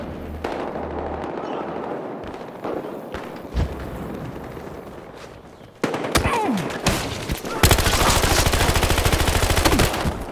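Bursts of rapid gunfire in the video game Battlefield Hardline crackle in uneven volleys, then a loud sustained automatic stream near the end, with impacts and metallic clatter.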